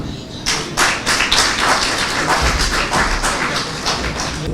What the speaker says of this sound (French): veuillons applaudir son Excellence parmi nous